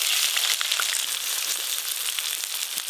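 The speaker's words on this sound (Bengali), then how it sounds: "মাংস কষার জন্য প্রথমেই গোটা গরম মশলা ফোড়নে দিয়ে দেব" Whole garam masala spices hit hot oil as a tempering for mutton, a dense close sizzle and crackle that holds steady for a few seconds.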